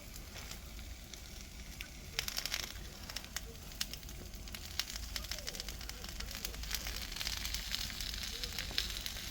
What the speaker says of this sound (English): Let's flame it up